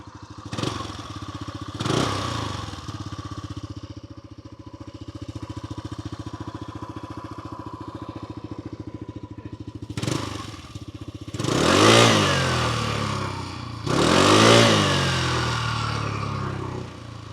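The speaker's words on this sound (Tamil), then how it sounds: "ஸோ வண்டியோட எக்ஸாஸ்ட் நோட் எப்படி இருக்குன்னு கேட்போம்." Hero Xoom 160 scooter with a 156 cc engine idling close by, a steady putter from the exhaust, then sharp throttle blips that rise and fall, two strong revs near the end.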